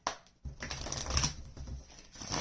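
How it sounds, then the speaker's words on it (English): Tarot cards being shuffled, a continuous close rustling and riffling of cards lasting a couple of seconds with no talking. "Shuffle."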